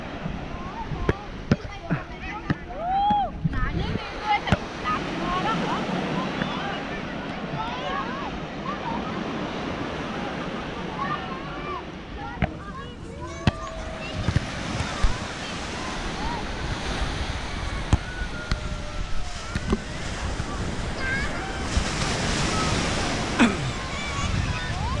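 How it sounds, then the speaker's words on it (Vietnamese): Surf breaking on a beach in Quảng Đông, a steady roar of waves with gusts of wind buffeting the microphone, while voices talk intermittently over it throughout. "đây là bãi biển Quảng Đông nhé"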